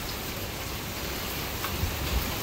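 Hurricane Ian's rain band lashing North Port, Florida, with steady dense rain hiss and gusty wind rumble building slightly toward the end, no voices.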